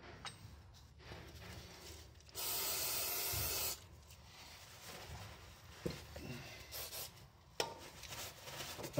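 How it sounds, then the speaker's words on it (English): Brake cleaner sprays under a car during a gearbox service on an EVO X MR, one steady hissing burst of just over a second amid faint clinks and shuffling. "I'm going mad with the brake cleaner"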